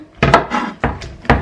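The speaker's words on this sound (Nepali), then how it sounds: "पहिला यसको माथिको टुप्पो अनि तलको टुप्पो काटेर हाल्ने" A knife slicing the tips off okra on a cutting board: sharp, close taps and thuds at uneven intervals, about three or four distinct cuts with brief scraping between them.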